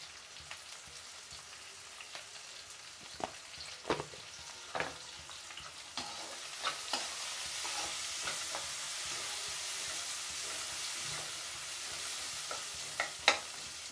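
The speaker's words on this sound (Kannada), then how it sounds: "ಸ್ವಲ್ಪ ಚೆನ್ನಾಗಿ ಹಸಿ ವಾಸನೆ ಹೋಗೋ ತನಕ ಹುರ್ಕೊಬೇಕು" Onions frying in a pan with a pinch of salt for tomato gojju, a soft crackling sizzle that swells into a steady hiss, punctuated by scattered scrapes and taps of stirring.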